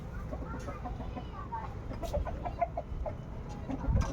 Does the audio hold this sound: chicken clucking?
yes